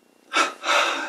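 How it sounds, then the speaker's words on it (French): A single deep inhalation during a guided yoga and meditation session, a soft airy breath drawn in close to the listener, followed by a longer steady breath after a brief pause. "Puis inspire"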